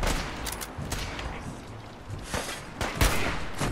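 Gunfire from Fallout 4's Far Harbor expansion: several sharp shots spread across a few seconds, with one louder, heavier report near the end, set against a busy game soundscape.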